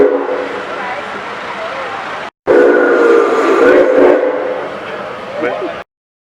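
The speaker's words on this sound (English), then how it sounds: "The steam engine is making the usual puffs and hisses and noises that a steam engine under fire makes, and occasionally they will blow the whistle." The Empress, a large live steam locomotive, blows its whistle loudly and close in a long blast, a brief cut, then another sustained blast that tapers off, with faint hiss and rumble beneath.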